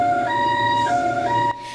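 Ambulance siren wailing loud and close in a repeating two-tone pattern, cutting off abruptly near the end.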